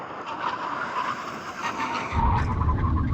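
Porsche 911 cars, including GT2 RS, Turbo S and GT3, braking hard from 100 mph, a steady rushing roar of tires and wind that swells into a louder, rougher rumble as the stop bites.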